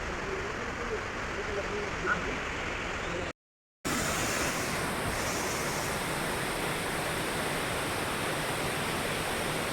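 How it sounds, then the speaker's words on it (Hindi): Steady roaring rush of a waterfall on the Annapurna Base Camp trek, a broad continuous wash of falling water heard close and loud, broken once by a short gap of silence. "ये देखिए वाटरफॉल"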